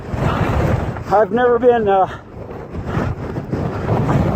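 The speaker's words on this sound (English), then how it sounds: "And it's so windy." Strong mountain wind gusts at Lake of the Clouds, roaring and buffeting the microphone with a loud, low, continuous rumble while someone talks briefly in the middle.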